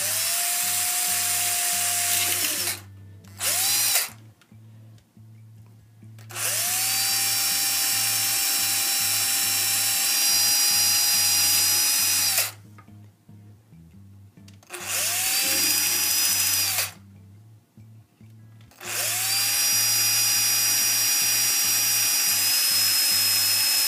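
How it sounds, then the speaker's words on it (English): A drill bores holes into a ukulele body to make room for an output jack, running in several long, steady whining bursts separated by short pauses, loud and close with no talking. "So now I'm going to do is just drill these holes out and then start sawing."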